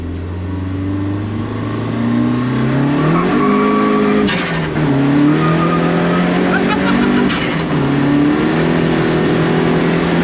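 A 275 bhp Renault 5 GT Turbo with a swapped C20LET red top turbo engine accelerates hard with wheelspin, its loud engine note rising through the gears with brief dips at each change, while people talk over it.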